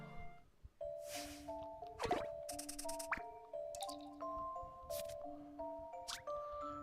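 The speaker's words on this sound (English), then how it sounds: "Ring the bell and send the signal to Randall." In Professor Layton and the Miracle Mask, a bell rings out as a signal: a run of bright, quick metallic strikes rises over light, plinking game music, near and clear, with no voices.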